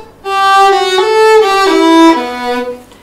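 A bowed violin plays a short run of sustained notes from a song, out of tune from a low third finger, a few sliding slightly in pitch, clear and close with no talking.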